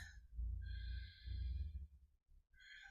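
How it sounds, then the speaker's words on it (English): A gentle deep breath, a slow close inhale and exhale lasting a couple of seconds, soft and unhurried, with no talking. "Taking a gentle deep breath."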